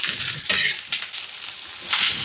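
Amaranth leaf vegetable being turned gently on a hot griddle: a few soft scraping strokes over a bright frying sizzle, close and fairly loud, with no voices.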